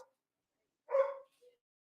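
A dog gives a single short bark in the background, followed by a brief faint yip, with silence around it.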